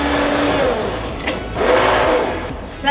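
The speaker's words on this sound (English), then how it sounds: "I'm gonna run the immersion blender through this here in a second" An immersion blender purees homemade rhubarb barbecue sauce in a pot, a loud buzzing motor whir that surges and dips as it churns through the thick sauce.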